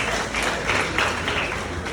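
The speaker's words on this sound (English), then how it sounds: "Let's clap for that." A school workshop audience claps in steady applause for a couple of seconds, a dense patter of many hands.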